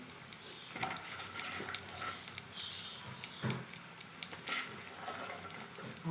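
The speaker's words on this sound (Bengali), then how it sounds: "কড়াই তেল গরম হয়ে গেছে, আমি ফোড়নে শুকনো লঙ্কা দিলাম," Dried red chillies tempering in hot mustard oil in a kadai give a steady, moderate crackle and sizzle with scattered pops and a few louder spits, and no voices are heard over it.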